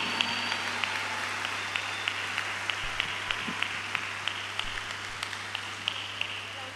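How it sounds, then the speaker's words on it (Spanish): Audience applause at a Catholic concert, a steady wash of many hands clapping at moderate level with a low constant hum underneath, no voices heard. "Y un aplauso aún mayor para nuestra hermana Katie Márquez. Fuerte su aplauso."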